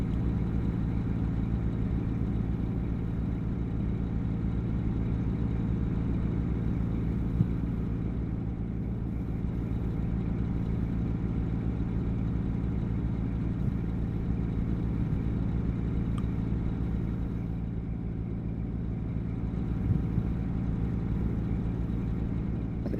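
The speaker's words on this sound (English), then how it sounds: "I don't know what engine this Kenworth's got in it, but I do like the sound of it." A Kenworth truck's engine runs steadily at a low, even idle-like drone, a constant mid-level rumble with no breaks, no voices and no change in pitch throughout.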